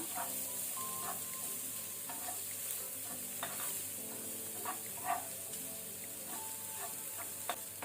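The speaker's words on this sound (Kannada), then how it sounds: "ಸೊ ಇದನ್ನು ಮೀಡಿಯಂ ಫ್ಲೇಮ್ ಅಲ್ಲಿ ನಾವು ಸ್ವಲ್ಪ ಕಲರ್ ಚೇಂಜ್ ಆಗೋ ತನಕ ಫ್ರೈ ಮಾಡ್ಕೊಳ್ಳುವ" Onions and curry leaves frying in a pan over medium flame, a steady soft sizzle with occasional stirring scrapes and clicks, close and fairly quiet, with no talking.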